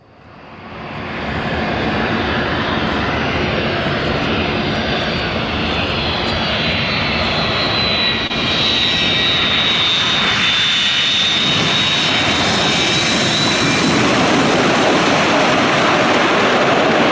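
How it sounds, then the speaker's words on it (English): A DC-9 jet airliner flies an aerobatic display, its engines a loud, steady roar that builds at the start and holds for the whole stretch, with a high whine in the turbines rising and shifting as it passes. "after that spectacular display of a DC-9 doing things no normal airliner ever does"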